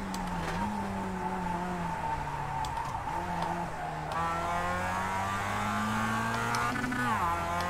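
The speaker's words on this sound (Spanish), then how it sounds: "Qué desagradable es el sonido de este coche" A race car engine drones and revs in iRacing at Pikes Peak, the pitch rising and dropping with gear changes and a brief tire squeal, loud and continuous with no talk.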